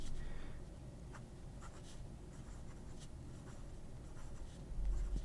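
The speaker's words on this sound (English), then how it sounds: "you can tell that I have some difficulty writing with this nib." Scratchy strokes of a Pen BBS calligraphy nib on paper, a faint continuous scratching with light irregular ticks, close up over a low steady background hum, with no talk.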